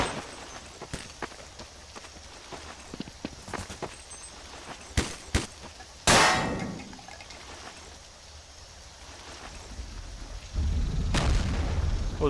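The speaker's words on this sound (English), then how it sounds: "Oh, this has an explosion sound," Explosion in a Half-Life Source mod game: a loud broadband blast with a rumbling tail stands out among sharp game impacts and shots, followed later by a heavier low rumble.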